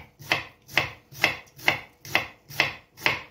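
Red onion being finely chopped with a knife on a board, seven evenly spaced crisp cuts in a steady rhythm, close and clear with no talking.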